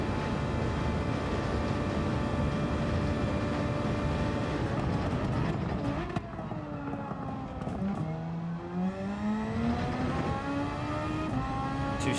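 A race car engine in Gran Turismo 7 daily racing, the car running low on fuel and twitchy on the throttle; a steady high-pitched engine drone holds, then drops off and climbs again through several rising gear-change sweeps.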